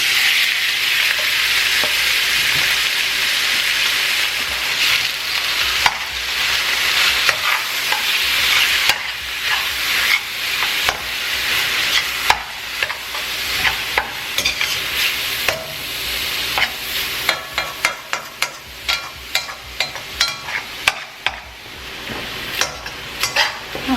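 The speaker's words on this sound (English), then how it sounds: "The oil is starting to bubble, and I'm gonna go ahead and start browning it up." Ground turkey browning in bubbling oil in a pan, a loud steady sizzle throughout with a utensil stirring and scraping, growing into rapid clicking knocks toward the end, with no talking.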